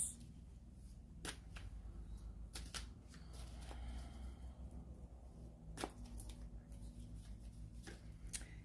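Tarot cards being shuffled and a card pulled from the deck, a quiet close run of crisp flicks and riffles with a few sharper snaps, heard alone.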